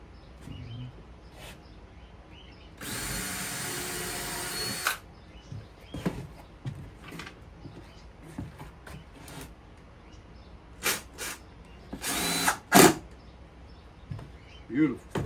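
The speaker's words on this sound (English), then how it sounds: "And drill your next one." A power drill whirs through wood in a two-second burst, followed by short taps and brief drill bursts with a voice speaking quietly between them.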